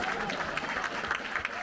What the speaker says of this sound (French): J'ai dit, applaudissez-vous bien fort